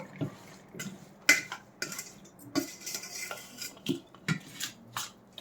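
A spoon scrapes and clinks against a bowl while bean chutney is spooned into a serving bowl, a quick series of close, light metallic taps and scrapes with no voices.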